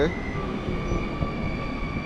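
SKM commuter train on line S4 hums nearby at a station, a steady mechanical drone with a thin, sustained tonal whine over low rumble.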